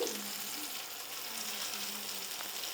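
Hot tempering poured into tomato chutney sets off a steady, hissing sizzle that runs evenly from start to end, close but fairly quiet, with no speech.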